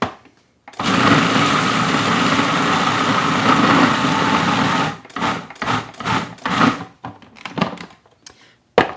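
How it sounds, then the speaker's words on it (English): A food processor whirls bean meatball ingredients in a loud, steady high-pitched buzz for about four seconds, then stops and gives several short pulsed bursts with gaps of quiet between them. "with all of the ingredients in the food processor, I'll just whirl that all up until it is"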